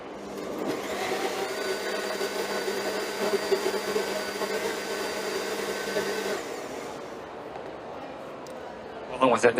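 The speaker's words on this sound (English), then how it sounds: "With a super blender, right?" A high-powered super blender whirs steadily for about six seconds, loud and close with a sustained motor drone, then cuts off, leaving quieter room sound and a brief clatter at the end.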